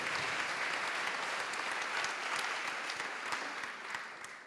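Audience applause fills a hall at the close of a round-table panel on policy, a steady, even wash of many hands clapping that tapers slightly at the end.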